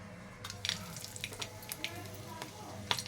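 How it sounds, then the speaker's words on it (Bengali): Bay leaves hitting hot mustard oil in a wok give a light, steady sizzle with a few sharp crackles and spits near the end. The frying noise is fairly close and continuous, and no one talks over it. "কড়াইতে সরিষার তেল দিয়ে দিয়েছি। এবার দিয়ে দেব দুটো তেজপাতা"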